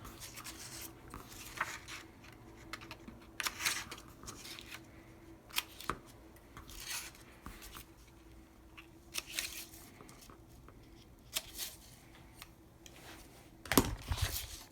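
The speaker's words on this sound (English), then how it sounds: "take a pair of scissors and you're going to want to cut out the four corners" Scissors snip through the four corners of cover material for a handmade book cover, giving a string of short, crisp cuts spaced out over a quiet background with some light handling noise.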